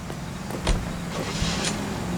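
Car driving in the 1940s Los Angeles setting of L.A. Noire, a steady low engine hum with a couple of brief mechanical whirs and clicks over about two seconds, moderately loud with no talk.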